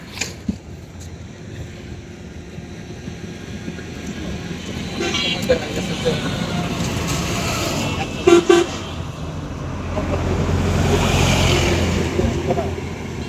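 A tractor's engine rumbles nearby and grows louder as it passes on a bridge over a river, with a few horn toots and people talking over the road noise.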